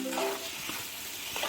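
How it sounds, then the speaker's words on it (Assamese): Vegetables frying in masala in a pan, a dense, loud sizzle with soft stirring scrapes throughout and a faint tonal hum at the start. "এতিয়া ভাজি থোৱা ভেজিটেবলছখিনি মছলাৰ লগত দি দিব আৰু ভালদৰে ভাজি ল'ব।"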